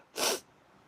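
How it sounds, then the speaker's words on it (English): A single sharp sneeze bursts out close to the mic, loud and brief, then fades into quiet room tone. "I want to sneeze again."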